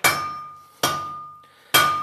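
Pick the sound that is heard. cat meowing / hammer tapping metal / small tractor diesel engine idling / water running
hammer tapping metal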